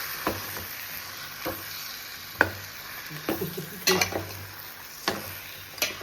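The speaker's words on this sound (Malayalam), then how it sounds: "സോ ഇട്ട് കഴിഞ്ഞിട്ട് നന്നായിട്ടൊന്ന് നമുക്ക് മിക്സ് ചെയ്ത് കൊടുക്കാം" About 800 grams of chicken being mixed in a pan, with repeated close scrapes and clacks of the spoon against the pan every second or so over a soft background sizzle.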